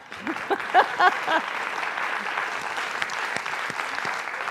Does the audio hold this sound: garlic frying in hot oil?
no